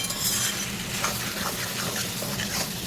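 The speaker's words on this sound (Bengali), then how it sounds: "আমি আলুগুলোর সঙ্গে মাংসটা আরও একটু ভালো করে কষিয়ে নেব।" Mutton pieces and fried potatoes stir-fried together in a pan for a mutton curry, a continuous close sizzle with scraping, stirring sounds and light metallic clinks of a spoon against the pan.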